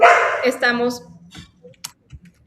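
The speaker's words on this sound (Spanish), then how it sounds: "mi perrita empezó a ladrar" A small female dog barks several sharp yips in a quick burst, heard fairly close beside someone talking indoors, with the barking trailing off into softer yaps.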